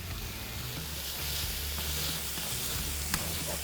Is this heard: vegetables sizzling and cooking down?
yes